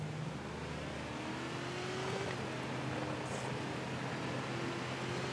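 A trophy truck engine in the Baja racing game drones steadily as it climbs a hill on the final lap of a long race, holding a continuous loud, even rumble with slight pitch rises throughout.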